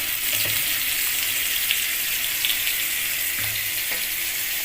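Bangda mackerel fish frying in oil over a medium flame, a loud, continuous hiss and crackle with no voices.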